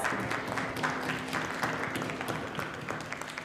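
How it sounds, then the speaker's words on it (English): A campus event audience gives a final round of applause, dense clapping that stays fairly even and moderately distant for a few seconds before starting to taper. "Let's give them one last round of applause."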